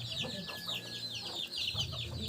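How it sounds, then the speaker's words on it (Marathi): Several village hens cluck and chatter continuously close by, with overlapping soft calls and a faint background murmur. "कोंबड्या बघा मित्रांनो कोंबड्या बघा केवढ्या आल्या त्यांच्या"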